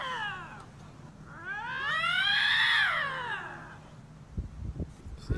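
A bobcat caterwauls with a drawn-out, rising and falling yowl, first a short cry and then a longer, louder wail, followed by a few soft thumps, fairly distant and alone.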